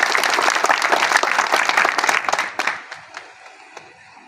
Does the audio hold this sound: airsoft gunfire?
no